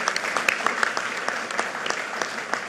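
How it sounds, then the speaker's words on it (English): An audience applauds President Biden at a COVID-19 vaccine event, a brisk, steady round of many hands clapping that fills the whole stretch at moderate loudness. "can you give a big round of applause to the President for joining us today?"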